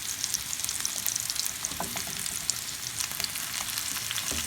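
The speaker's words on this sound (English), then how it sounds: "I'm just turning the potatoes over now." Potatoes fry with sage in a hot pan for pork chops, making a steady, close, dense sizzle that crackles evenly throughout without letting up.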